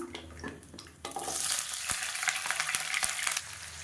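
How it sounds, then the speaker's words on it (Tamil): Spices, small onions and oil sizzle and crackle steadily in a hot pan, with a sudden louder burst of frying partway through and occasional sharp pops, close and alone without any talk. "இப்போ எல்லாமே நல்லா பொரிய ஆரம்பிச்சிருச்சு"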